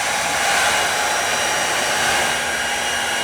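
A forced-air blower drying off a freshly pressure-washed car with rust on its left side produces a loud, steady rushing hiss of air. It holds constant throughout with no voices.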